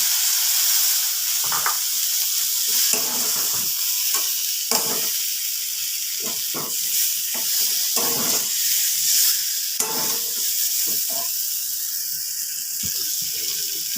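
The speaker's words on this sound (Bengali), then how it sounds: "তেল বা মশলার সাথে একসাথে হিংটাকে একটু কষিয়ে নিচ্ছি। আগে থেকে ভেজে রাখা বেগুনগুলো এবার মিশিয়ে দিলাম।" Fried brinjal is stirred into hot oil with asafoetida, giving a steady, bright sizzle throughout, broken by repeated scraping and stirring knocks from a spoon in the pan. Close and fairly loud, with no talk.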